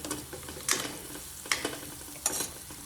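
Food being sautéed and stirred in a pan at home, a few scraping stir strokes over a soft low sizzle, fairly quiet and close, with no talking.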